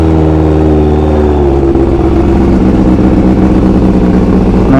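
Loud motorcycle engine under way on a makeshift, shonky rig, with a steady, close drone that shifts pitch as the bike changes speed; no voices.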